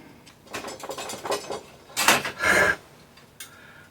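A bolt goes back into a Toei 650b randonneur bicycle fender, heard as scattered metallic clicks and taps that build to a couple of louder close rattling bursts near the end.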